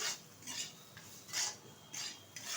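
Soft scraping and clinking of a spoon stirring fried dry fruits into chana dal mohanbhog in a pan, a few quiet strokes in an irregular rhythm with no voices.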